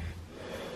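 A young piglet snores in soft, breathy snorts on a homestead, a low rumbling rasp repeating close by for under a second with no talk over it.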